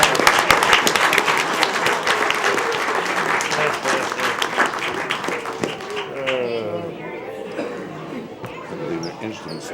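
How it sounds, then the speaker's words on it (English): An audience at a school board meeting applauds loudly and continuously for several seconds, with scattered chatter, before the clapping fades and a voice starts talking. "Let's give another big round of applause,"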